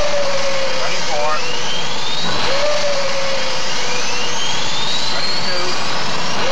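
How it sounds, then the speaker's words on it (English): Jet aircraft engines spin up from start to running, a loud, steady roar with rising whines sweeping upward and layered over one another, filling the whole stretch. "Time to start the engines."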